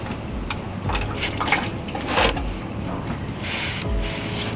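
Warm engine oil drains from a 1980 VW Rabbit Pickup during an oil change, a steady liquid trickle and splatter with brief louder gushes, close by and continuous, onto cardboard below.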